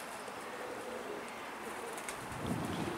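A pigeon gives a soft, low coo near the end, faint under a steady hiss and insect-like buzz.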